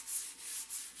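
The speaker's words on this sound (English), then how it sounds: "it makes sanding things with a sanding block so much more enjoyable" Wood is sanded by hand with a sanding block wrapped in hook-and-loop sandpaper during a breakfast table build, giving soft, rhythmic back-and-forth rubbing strokes, close and fairly quiet.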